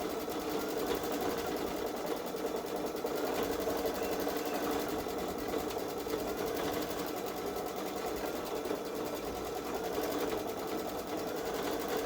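A Baby Lock Solaris Vision sewing machine runs steadily through an edge-to-edge quilting stitch-out on a Halloween gnome quilt, a constant, close mechanical whir with a fast stitching chatter that never pauses.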